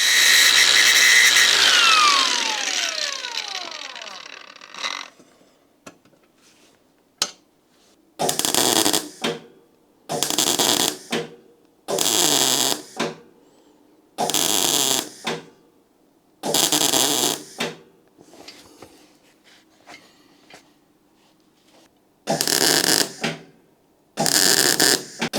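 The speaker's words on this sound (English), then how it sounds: "So we need to just weld this up a bit" Welding a broken seat on a Citroën AZU: after a loud grinding at the start, a series of short bursts of harsh arc-welding crackle come in separate spurts, each a second or two long, with quiet gaps between them.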